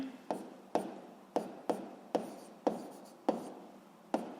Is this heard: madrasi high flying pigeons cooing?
no